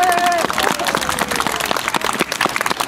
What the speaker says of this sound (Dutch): dus zij verdient wel een applaus.